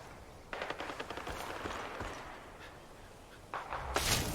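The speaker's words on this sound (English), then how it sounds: "Sounds like shooting." Gunfire in the Far Cry 5 video game, bursts of rapid shots starting mid-clip with a louder burst near the end, heard at a moderate distance without talking.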